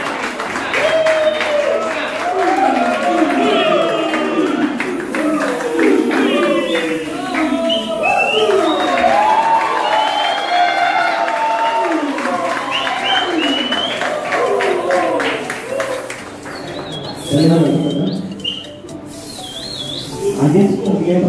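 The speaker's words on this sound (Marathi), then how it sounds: "टाळ्यांचा कडकडाट चालू आहे" Loud, sustained applause and crowd noise fill an indoor cricket league auction hall during a trophy presentation, the clapping steady throughout and mixed with chatter and voices.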